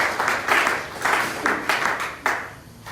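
A church seminar audience claps in bursts of applause for the Lord, loud and close, with the clapping swelling and fading in several waves and no talking over it.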